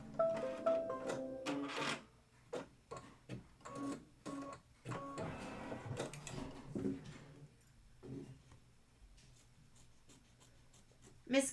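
An embroidery machine sews an outline stitch in bursts of rapid mechanical whirring and ticking, separated by brief pauses and quieter stretches.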